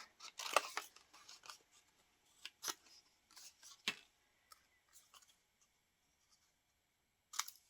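Scissors cutting paper for a collage, sparse close snips and crisp slicing rustles coming in short separated bursts with quiet gaps between, the strongest near the start.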